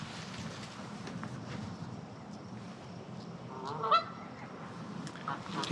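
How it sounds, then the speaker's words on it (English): Geese honk in a Minnesota arboretum garden, a few distant honks over a low outdoor rumble, with one louder honk standing out near the end. "Well, they're geese."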